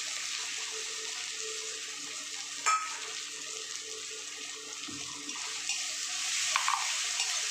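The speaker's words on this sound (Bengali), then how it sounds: "এবার আমি এখানে টমেটো কুচি আর আদা রসুন বাটাটা দিয়ে দিলাম" Chopped tomato and ginger-garlic paste frying in hot oil in a pan, a steady hiss with a brief clink and a couple of soft stirring sounds, no voices.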